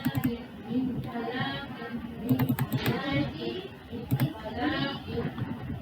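Computer keyboard being typed on in Word, quick clicks scattered beneath someone talking steadily throughout, keys close but quieter than the voice.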